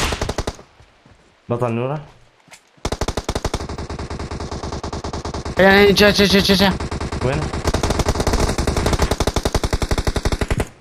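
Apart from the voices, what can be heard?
gunfire in the video game PUBG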